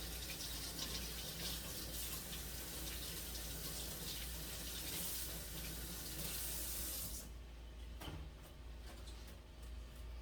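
Steady stream of running tap water as celery is rinsed in a kitchen sink, a continuous soft splashing gush that cuts off near the end, leaving quieter drips and faint handling sounds.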